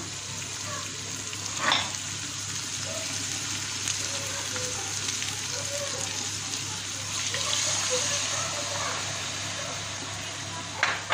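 Water is added to a hot frying pan for a turkey stew: a steady, busy sizzle and hiss continues throughout, with a few brief louder spatters and faint talk underneath.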